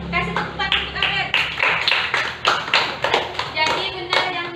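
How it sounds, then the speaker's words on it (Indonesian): A grade four classroom claps hands for a student, a loose burst of many hands near and loud over about four seconds in uneven waves, with voices mixed in. "Nah, kasih tepuk tangan untuk Abed."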